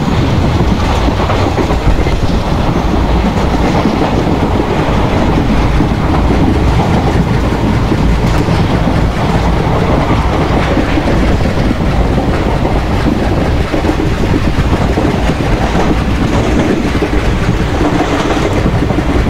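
ICF passenger train running on the Bhusaval–Katni route in the Open Rails (MSTS) railway simulator game, a loud, continuous rolling rumble with steady clickety-clack of wheels on track and no talking.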